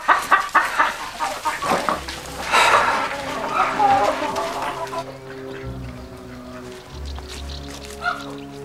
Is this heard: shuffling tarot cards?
no